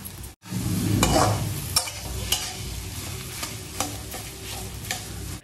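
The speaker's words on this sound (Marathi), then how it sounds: "मंद गॅसवर भाजी अशा प्रकारे साधारण 5 मिनिटं परतून घ्यायची." A spiced mashed potato filling for batata vada is stirred and sautéed in a pan over a low flame, producing a gentle, steady sizzle with occasional scraping knocks of the spatula up close.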